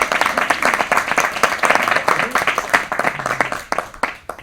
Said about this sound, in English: Round of applause for Ken.